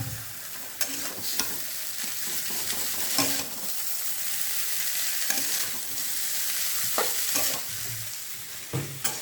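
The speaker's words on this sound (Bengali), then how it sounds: "এই বাদাম সমেত পুরো বিষয়টাকে সুন্দর করে নাড়াচাড়া করে নিতে হবে।" Chow mein ingredients and peanuts are stirred in a hot frying pan, giving a steady sizzle with repeated scraping strokes close up and no voices.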